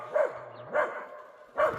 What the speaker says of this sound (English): The dogs are barking because we have some deer in the yard